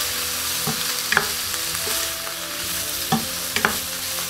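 Bacon sizzles steadily in a pan as its fat renders, with a few sharp clinks and scrapes of stirring over the constant frying hiss.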